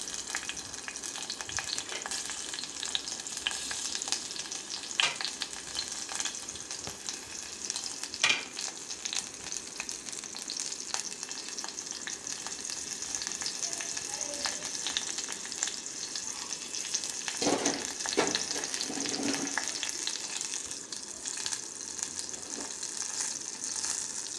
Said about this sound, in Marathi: हे सर्व टाकल्यानंतर छान लालसर होईपर्यंत सर्व मिश्रण परतून घ्यायचं आहे